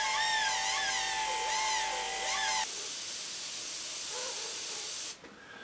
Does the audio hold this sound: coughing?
no